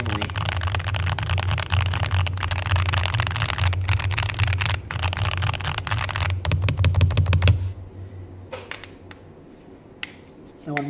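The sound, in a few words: typing on mechanical keyboard with lubed Hall effect switches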